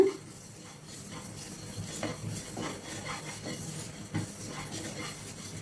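Fennel seeds dry roasting in a pan over a low flame for homemade kuzhambu chili powder, with soft scraping stirs and faint rustling, quiet and close, no talk.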